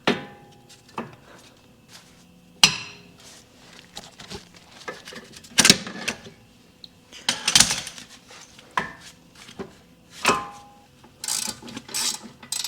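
New brake pads are fitted onto a Honda Accord brake caliper, giving sparse metallic clicks, clanks and sharp taps of pads and hardware being handled, close by with quiet gaps between the knocks.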